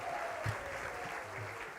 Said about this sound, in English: a round of applause for the Department of Sound